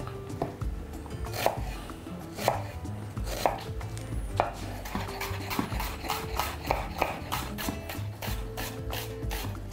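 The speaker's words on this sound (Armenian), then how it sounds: "Կտրատում ենք մանր։" Rapid, steady knife strikes on a cutting board, finely chopping onions in a quick, even rhythm, close and clear with no talking.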